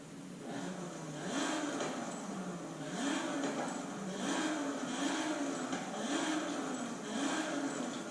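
Game engine of the Audi Sport quattro in Forza Horizon 5 revving in repeated surges, the pitch climbing and dropping several times over a sustained, fairly loud drone, with no voices.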